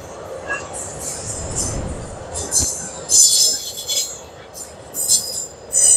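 A Rumo freight train rumbles past close by, heading toward Mato Grosso do Sul, wheels squealing and clattering in bursts over a steady low roar.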